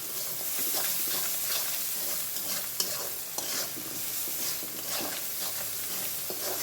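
Onions sizzle steadily in hot oil while a spatula stirs and scrapes the pan, with a few sharper clinks, close and continuous without talk.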